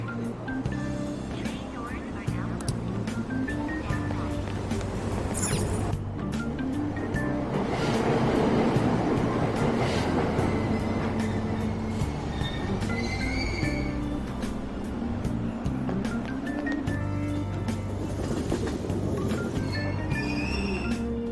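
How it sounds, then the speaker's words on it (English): A subway train in the video game Persona 5 Royal pulls away from a station with a continuous rumble and rising motor whine, with brief clicks along the way and no talk over it. "Train doors are now closing. Please stand back."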